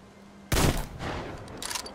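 Gunfire in the video game Metro Exodus: a sudden, loud volley starts halfway in, followed by a rattling burst and scattered sharp reports.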